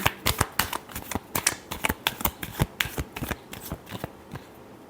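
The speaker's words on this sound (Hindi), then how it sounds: "last shuffle" Tarot cards are shuffled in quick, crisp riffling bursts, close and clear with no voices.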